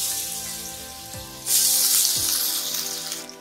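Ginger and garlic sauté in hot oil for a Malvani-spiced raw papaya and dried prawn dish, a steady close sizzle that swells louder midway as more goes into the pan, with no talk.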